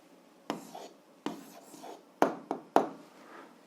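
A pen or pencil scratches on paper while an answer is written by hand, a handful of short, soft strokes with brief gaps between them, close and quiet.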